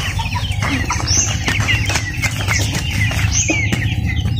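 Rhode Island Red hens cluck and chatter in a coop, a steady chorus of close clucks and short calls over a low background rumble.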